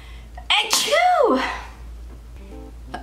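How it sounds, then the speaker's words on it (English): A single loud, close sneeze with a sharp intake and burst, followed by quiet room tone. "Oh my God, I need to sneeze."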